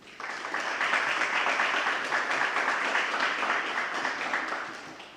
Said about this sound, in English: we can please give her a round of applause